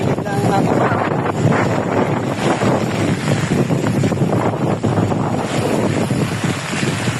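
Strong wind sweeps across a farm at La Brea, roaring in a loud, continuous rush that buffets the microphone close up and swells and dips without pause.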